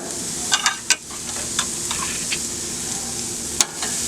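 Pork chops searing on a griddle set on high over a gas flame give a steady close sizzle, broken by a few sharp crackles and pops scattered through.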